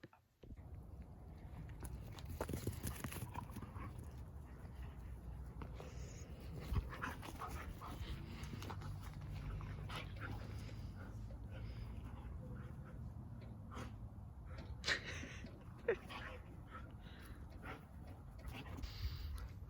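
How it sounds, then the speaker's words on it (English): Dogs play outdoors on a cold day, panting, snuffling and mouthing at each other close by with occasional whimpers and thumps, over a steady outdoor background. "maybe we'll get some clips of the dogs playing and having a good time while I read"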